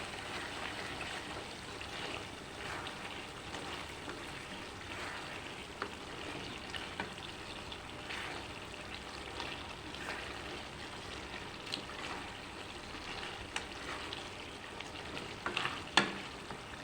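Tempering of dried red chili and ginger paste tipped into vegetables in a pan, giving a soft continuous sizzle with light stirring and a small clatter near the end, no one speaking.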